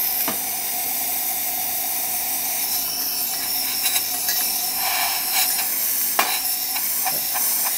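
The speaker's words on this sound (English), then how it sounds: "So you can see the steam." Steam hisses continuously from a DeLonghi Magnifica S espresso machine fitted with a new mechanovalve, a loud, steady rushing hiss with a few short clicks and pops.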